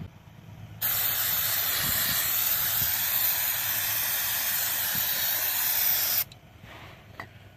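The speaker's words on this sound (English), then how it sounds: "you want to spray it down with brake parts cleaner" A loud, steady spray of brake parts cleaner hisses continuously for about five seconds, then cuts off abruptly, leaving quiet background noise.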